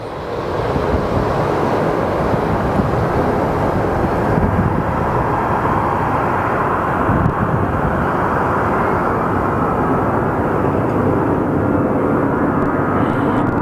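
A Delta passenger jet departs Phoenix Sky Harbor Airport with a steady, dense engine rumble that stays loud and even throughout, heard at some distance with no voices.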